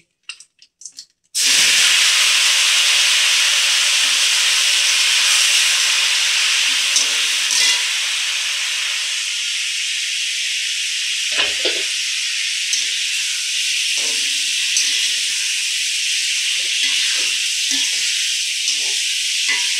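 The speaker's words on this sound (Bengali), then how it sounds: "আমি তেলের মধ্যে সেদ্ধ আলুগুলো দিয়ে দিচ্ছি।" Boiled potatoes drop into hot oil with a sudden loud burst of hissing and sizzling that holds steady and close for the rest of the stretch, broken by faint stirring clicks.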